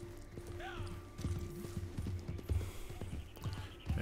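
Horse hooves clip-clop steadily in the video game Red Dead Redemption 2, a quick regular rhythm of soft thuds over a low ambient bed, with a faint whinny-like tone near the start.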